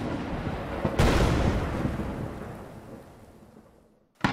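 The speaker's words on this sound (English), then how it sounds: "I just threw in some fire and explosion sound effects" Video game sound effects of fire and an explosion: a sudden deep boom erupts and then rumbles away over a few seconds, followed by another sharp burst right at the end.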